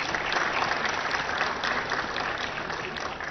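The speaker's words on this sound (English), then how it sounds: "you guys, more than anybody else, deserve a huge round of applause." A crowd at a sanitation innovation hub logo launch in Hyderabad claps in a dense, even wash of applause, sustained and fairly loud throughout with no voices on top.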